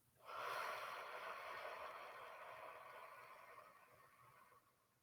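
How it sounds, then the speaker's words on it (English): A deep breathing exercise: one long, steady airy breath that swells in quickly, holds fairly loud and even, then fades away over about four seconds, close and alone with no talking. "So inhale, hold, exhale"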